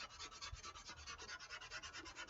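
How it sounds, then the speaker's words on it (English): Foam being sanded by hand with 220-grit sandpaper, a quiet rhythmic rasping of steady back-and-forth strokes, close up and alone with no talking. "So still going to stay with this 220 sandpaper, and we're just going to work on this. See if we can sand this down a little bit."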